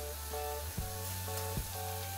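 Pineapple jam caramelizing in a pan gives off a steady sizzle, with a low mechanical hum and repeated soft thuds from stirring.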